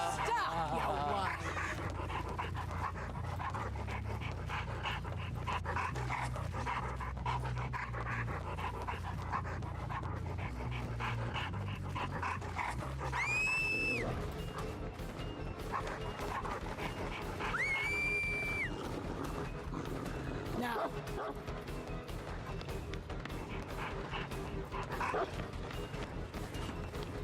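A dog in the video game Dead by Daylight pants, yips and barks over busy game sounds and music, with a player talking intermittently.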